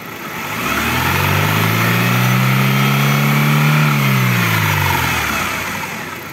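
A Chevrolet Aveo engine winding down as it decelerates with fuel injection cut off, one smooth, loud, close falling engine tone that holds and then fades, with no talking.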